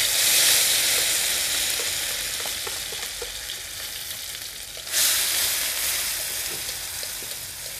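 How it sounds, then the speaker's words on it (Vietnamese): Tomatoes sizzle and hiss steadily as they are stir-fried in a pot for Vietnamese crab noodle soup, a loud continuous frying crackle close up with a brief louder surge midway as they are stirred. "Giờ mình xào cà lấy màu nha."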